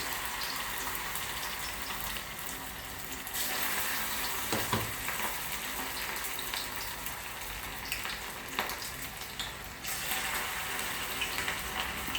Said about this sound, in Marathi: हे बघा गरम झाले तेल चांगले छोटे छोटे टाकायचे